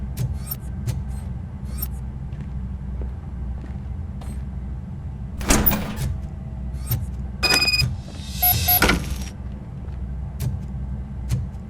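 A car door being opened in the video game Robocop: Rogue City, with a low engine idle underneath, a few clicks, and short bursts of mechanical rattling and handle noise near the middle.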